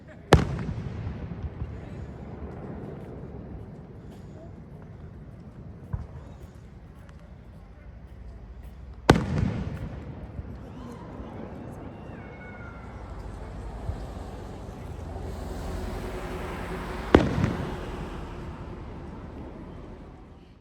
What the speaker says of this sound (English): Independence Day evening outside the Quality Inn here in Gorham. A fireworks display.